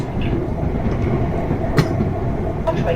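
A South Western Railway train running on rails between London Waterloo and Alton, heard from inside the carriage as a steady loud rumble with faint rhythmic clicks and a brief squeal.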